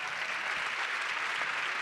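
Applause from an audience after a talk on big data, open data and ICT: steady, even clapping from a crowd that fills the room, moderately loud and with no voices over it.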